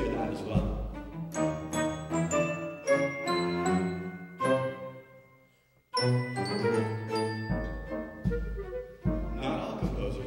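Chamber ensemble playing a twelve-tone row backwards, with a sequence of distinct, bell-like struck and sustained pitched notes and a brief pause midway. It is close and moderately loud, with speech at the edges.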